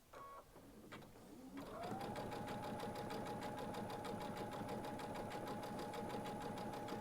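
After a few faint handling clicks, a Baby Lock sewing machine with a 7-hole cording foot starts up and stitches over decorative threads in a continuous, rapid, even hum.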